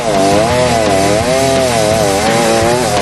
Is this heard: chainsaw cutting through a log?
yes